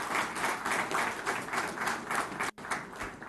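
A crowd applauds Minister KT Rama Rao at the launch of a cold chain centre at GMR airport in Hyderabad, a steady wash of many hands clapping that breaks off for an instant near the end and then resumes.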